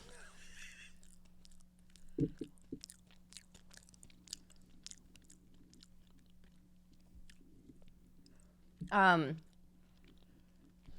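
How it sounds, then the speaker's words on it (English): Close chewing of a salty, crunchy food in Siem Reap, Cambodia, quiet wet mouth clicks and a few sharper crunches spread across the clip under a steady low hum, with a brief voice near the end. "You have to chew it for a while."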